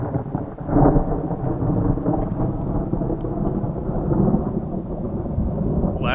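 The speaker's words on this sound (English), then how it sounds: "Last night we had a huge lightning and thunderstorm come roll through the property right over us" A big thunderstorm rolls over an off-grid garden property: deep, continuous thunder rumbles under steady, heavy rainfall, loud and close throughout with no voices.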